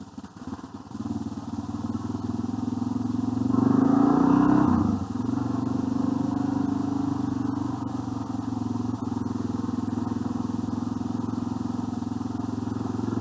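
A motorcycle engine drones steadily on a rough track, one of a group of adventure bikes that includes a Yamaha T7, rising briefly in revs and then holding a constant hum under wind noise.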